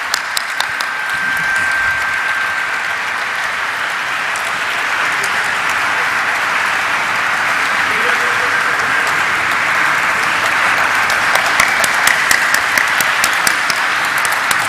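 Sustained audience applause at a pharmaceutical company listing ceremony as the chairman is welcomed on stage, loud continuous clapping from a large crowd that grows denser with crisp close claps near the end.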